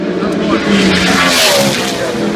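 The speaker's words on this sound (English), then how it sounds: "Next up will be Bobby Labonte, the 2000 Sprint Cup champion in the Chevrolet SF, the Richard Childress Racing." A Chevrolet NASCAR race car roars past at the Goodwood Festival of Speed, loud and close, with a sustained engine blare and tire noise over the whole short burst, and a voice faintly underneath.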